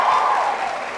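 Audience applause at a school Kiswahili arts event, a dense steady wash of clapping filling the moment and slowly tapering off.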